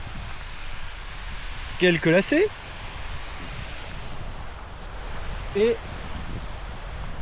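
A small mountain waterfall on the trail down to the Hospice de France in the Pyrenees makes a steady broadband rush, with brief speech over it.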